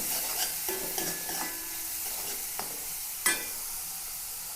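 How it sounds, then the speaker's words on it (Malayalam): Prawns that were peeled, washed and frozen are frying in a pan, giving a steady close hiss with soft stirring scrapes and one sharp clack near the end, and no one speaks. "ഇതിലേക്ക് ചെമ്മീൻ ഇട്ട് കൊടുക്കാം."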